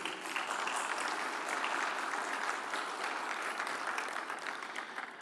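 Steady applause from an audience at a keynote speech, a dense, sustained patter of many hands clapping at moderate distance, continuing evenly for several seconds before tapering slightly at the end.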